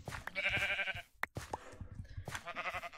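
Blocky sheep in Minecraft bleat in a short run of nasal calls at close range, the cries overlapping with game sounds in a wool farm setting.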